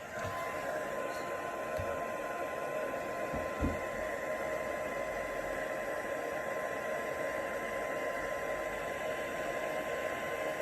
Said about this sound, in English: See, it's a lot quicker now because my heat gun is a little bit warmer.